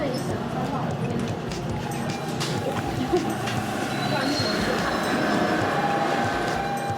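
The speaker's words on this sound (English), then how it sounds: "now we're catching our subway home" A subway train rides along with a steady, continuous rumble and rattle of the cars on the rails, holding at an even level throughout with a brief knock midway.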